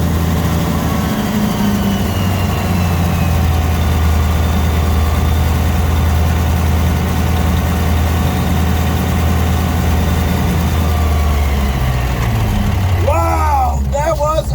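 An antique Brockway 158 truck engine rumbles steadily at a low, heavy idle, loud and continuous, with a voice briefly heard near the end.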